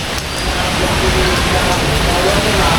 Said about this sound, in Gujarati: આજે બી વરસાદ પડ્યો રાતે.